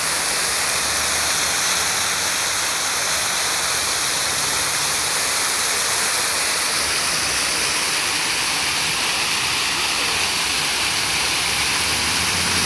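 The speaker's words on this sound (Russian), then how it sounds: "Здесь очень много фонтанов. И в прохладе этих фонтанов отдыхают люди. Сидят на лавочках, на бордюрах. Фонтан шумный." Fountains on Lenin Square in St Petersburg splash in a dense, steady hiss of falling water. The noise is loud and continuous throughout.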